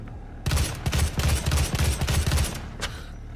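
Rapid gunfire in the VR shooter Doom VFR rattles in a dense, loud burst for about two seconds, followed by one last isolated shot.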